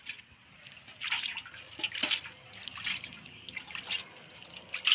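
Water trickles and drips while a cow's udder is washed by hand before manual milking in a village, a soft irregular splashing that comes and goes in small bursts, fairly close.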